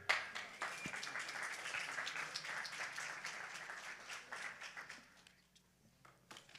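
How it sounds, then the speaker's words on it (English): Audience applause at a pitch competition, a dense burst of hand clapping that starts sharply, holds steady, then thins out and fades over several seconds. "And keep those hands clapping."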